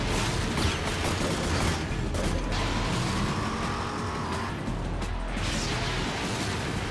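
In the Rage video game, a car drives hard with a dense, loud engine roar mixed with crashes, pops and mechanical clatter, a busy unbroken wash of in-game action and no talking.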